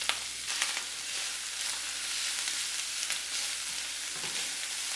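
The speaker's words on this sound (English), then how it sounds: "Stir everything all together." Chicken andouille sausage fried rice with jasmine rice and mixed vegetables being stirred in a hot pan, giving a constant close crackling sizzle with occasional scraping strokes of a utensil and no talking.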